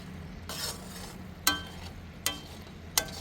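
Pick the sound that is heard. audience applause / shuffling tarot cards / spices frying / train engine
spices frying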